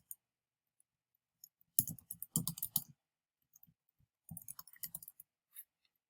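Someone types a page title on a computer keyboard in quiet surroundings, with two short bursts of soft close clicks separated by brief pauses and scattered single taps.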